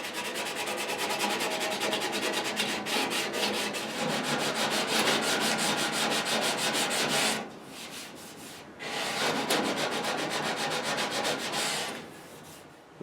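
Hand sanding on a Mustang fender during bodywork: steady rhythmic scratchy strokes fill the clip, briefly pausing near the middle and again near the end, close and fairly loud with no talking.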